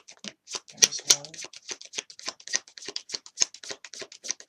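Tarot cards are shuffled and drawn by hand in a quick run of crisp, close flicks and snaps, with a couple of louder riffles near the start.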